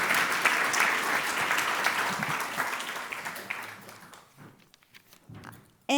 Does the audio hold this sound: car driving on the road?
no